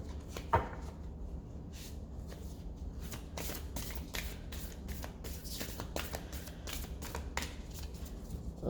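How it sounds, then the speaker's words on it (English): A deck of playing cards is shuffled close by, with quick riffling bursts and soft slaps repeating in irregular clusters, fairly quiet and with no one talking. "let's do one more shuffle and then clear the deck"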